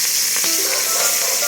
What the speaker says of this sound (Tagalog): iprito natin yung ating isda para hindi siya masyadong malangsa guys